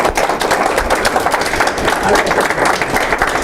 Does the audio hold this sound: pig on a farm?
no